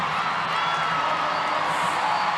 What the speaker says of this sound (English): And the crowd cheering on, willing on Katrina Gorry